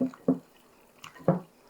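A few wet, squelching strokes come from a spoon stirring thick muffin batter in a bowl, spaced irregularly with quiet gaps between them.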